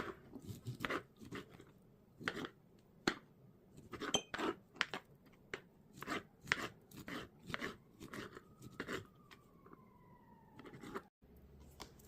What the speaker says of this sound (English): but a fire truck just went by.